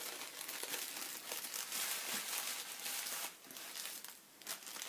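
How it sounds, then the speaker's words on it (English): A cute paper packet of mini yarn skeins crinkles and rustles steadily as it is handled up close, a continuous dry crackling with a few louder crunches and no voices. "I love that sound that paper makes."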